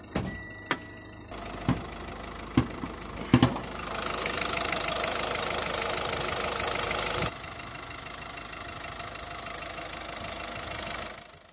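The 1.6-litre turbo diesel inline four-cylinder of a 2014 Citroen C4 Aircross idles in a steady clattering drone after a few sharp clicks and thumps, then drops to a quieter even idle.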